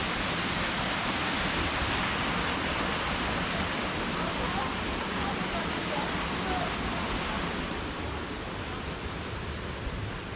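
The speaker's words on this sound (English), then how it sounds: "There's the waterfall" Catrigg Force waterfall in Yorkshire, a steady, loud broadband roar of falling water that fills the whole stretch without a break; faint voices of people may be buried beneath it.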